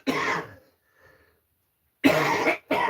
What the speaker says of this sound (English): I try to cough away from the mic.